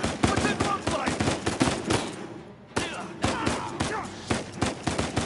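Rapid gunfire from Uncharted 4 rattles in dense bursts, close and busy, with a short lull midway before the shooting resumes.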